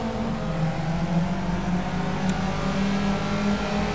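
Race car engine in the racing game Project Cars holding a steady, droning tone with slight rises in pitch as it accelerates, loud and continuous with no talk over it.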